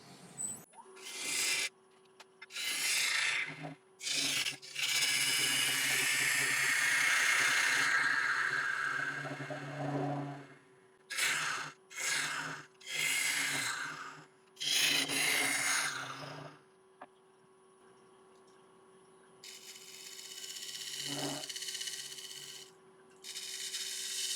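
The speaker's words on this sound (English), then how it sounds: "So I'll just switch to a slightly heavier bowl gouge. I'll get down a little bit further." A heavier bowl gouge hollowing a large elm bowl on a wood lathe, loud rasping cuts in bursts of several seconds separated by pauses, with the lathe's steady hum underneath and no talk.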